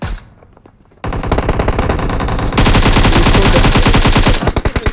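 Rapid automatic gunfire from PUBG Mobile crackles loud and close in dense bursts after a quiet second, continuing almost without pause for several seconds before breaking into separate shots at the end.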